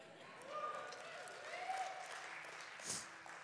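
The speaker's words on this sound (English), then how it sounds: "Sometimes you just gotta clap till you believe it." Church congregation clapping during a Sunday service, a faint, steady wash of applause at a distance with voices murmuring underneath.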